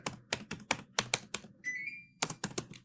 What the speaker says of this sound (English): So I am just typing the query.